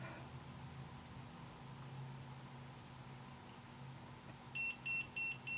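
Four short electronic low-voltage alarm beeps from a DC multifunction LCD panel meter in a steady rhythm near the end, following several seconds of low hum and background noise.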